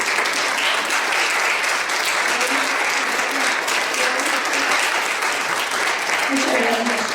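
Sustained applause from a lecture audience at a poetry reading, steady and dense for the whole stretch with no pauses.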